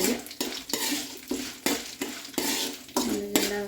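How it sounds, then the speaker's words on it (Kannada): Curry leaves dropped into hot oil for masala chitranna, sizzling and crackling steadily while a spoon scrapes and stirs the pan in repeated sharp strokes about every half second. "ನಾಲ್ಕು ಕರ್ಬೇವು ಎಲೆ ಹಾಕ್ತಿದ್ದೀನಿ"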